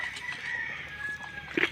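Pet chickens and roosters just after feeding, one drawn-out crowing call over a busy yard, ending in a brief cluck, moderately near.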